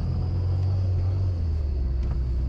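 Classic Mini pulling away in first gear, a steady low engine rumble heard from inside the cabin, continuous and fairly loud throughout with no talk.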